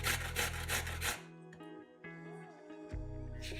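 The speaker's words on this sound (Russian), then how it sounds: "1 сырую морковь трем на крупной терке" Raw carrot rubbed against a coarse grater: a quick run of rhythmic, close rasping strokes, then a pause and one more scrape, quiet overall.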